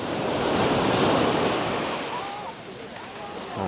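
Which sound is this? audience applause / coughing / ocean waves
ocean waves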